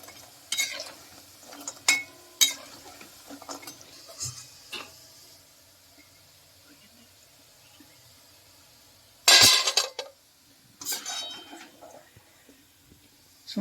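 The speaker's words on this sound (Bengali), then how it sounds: "শুনতেই পাচ্ছেন কেমন আওয়াজ হচ্ছে, কতটা খাস্তা হয়েছে।" Crisp deep-fried kucho nimki are lifted out of hot oil with a metal ladle, giving scattered clinks and rattles, a loud clattering burst midway, and quiet gaps between, close up.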